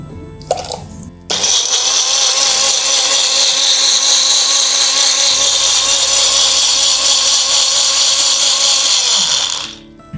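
Mixer grinder blending tomato with water starts abruptly after a brief clatter, then roars loud and steady at high speed for about eight seconds before cutting off.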